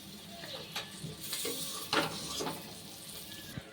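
Pointed gourd coated in gram flour fries in oil, a faint crackling sizzle broken by a few soft clinks of a utensil against the pan.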